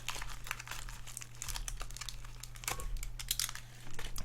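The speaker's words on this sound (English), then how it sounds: "So let's cut open one of these arms." Plastic packaging around a workbench arm being cut and torn open, with a steady crinkling and rustling close by, punctuated by sharper tearing bursts and a low electrical hum underneath throughout.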